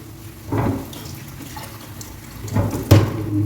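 Chicken pieces being washed in water for a kadai chicken dish, with two distinct bursts of splashing and sloshing water against a quiet kitchen background, close by and without talk.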